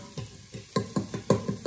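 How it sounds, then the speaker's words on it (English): Onions hitting hot oil in a pot while cooking Sunday lunch, giving a steady sizzle broken by a string of sharp, near stirring or scraping clatters. "We're just going to leave it, let it sizzle for a few seconds"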